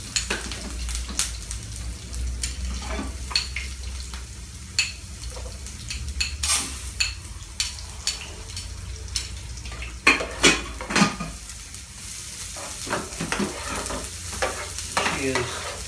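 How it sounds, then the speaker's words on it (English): Food fries in the larger of two frying pans as onions go in first for a dish with upo, a steady sizzle under repeated scrapes and clinks of a stirring utensil against the pan, with no talk. "she is going to fry it in a smaller frying pan"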